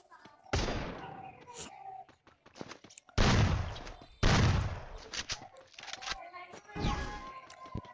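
Repeated bursts of gunfire from the Free Fire mobile game in a one-versus-one custom match, several loud volleys spaced across the stretch with brief gaps, a young voice speaking between them.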